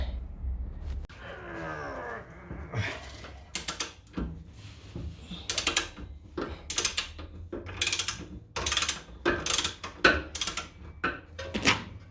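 A ratchet works a nut loose on the rear spring mount of a BMW M2, giving repeated short bursts of sharp, close clicking. Faint effortful grunts come between the strokes.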